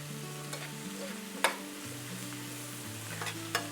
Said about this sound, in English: while the veggies are sautéing